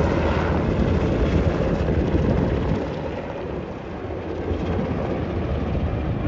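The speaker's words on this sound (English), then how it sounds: "There it is. The VH-92. The new Marine One." A VH-92 Marine One helicopter passes overhead near the White House, a loud, broad rumbling roar that holds steady, dips slightly midway, then swells again, with no voices.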